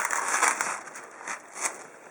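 Glad Press'n Seal plastic wrap is handled close up, giving soft crinkling and crackling rustles in a few short bursts with quiet gaps between them.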